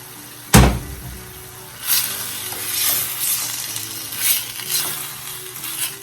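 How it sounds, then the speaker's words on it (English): Diced tomatoes, about 12 ounces, hit a pan of reduced sauce with a sharp loud splash, then settle into a steady sizzle marked by several softer stirring swells. "So now I'm going to add our diced tomatoes, and this is about 12 ounces of diced tomato."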